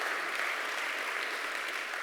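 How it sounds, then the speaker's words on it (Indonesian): A church congregation applauds during a sermon, a steady and even wash of clapping that holds at moderate loudness for the whole brief moment. "Tepuk tangan buat Allah kita"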